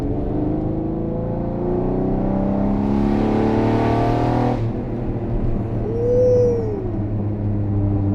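The flat-twelve engine of a Koenig Specials Ferrari Testarossa revs up with a rising howl, then drops off abruptly and settles into a lower rumble before a brief second blip.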